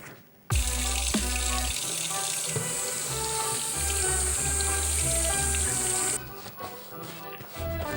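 Tap water runs steadily from a kitchen faucet into a sink while hands are washed before baking biscuits, a continuous close rushing stream lasting several seconds, with a soft background music bed underneath.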